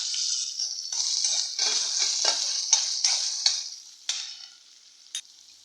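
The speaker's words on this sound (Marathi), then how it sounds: "कांदा चांगला परतून घेऊया।" Onion and curry leaves frying in hot oil for a ridge gourd dish, a bright continuous sizzle with repeated stirring scrapes, close and loud, fading toward the end with a last clack.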